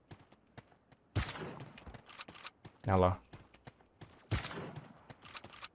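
Gunfire in the Sausage Man battle royale game: a few sharp shots ring out amid scattered clicks, with one heavier burst in the middle, while someone talks over it.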